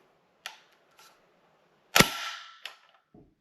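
A CZ Bren 2 rifle fitted with an HB Industries trigger releases its bolt lock: a few sharp metallic clicks, then one loud slam of the bolt closing, close and alone.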